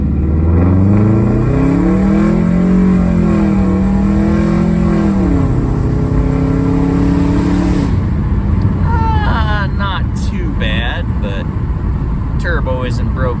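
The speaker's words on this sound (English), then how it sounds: "I'm going to do a stop and just do a quarter throttle accel and see how it goes." A 2005 Subaru with a new turbo accelerates from a stop at quarter throttle, its engine note climbing and dropping through gears inside the cabin, loud and close, with someone talking over it.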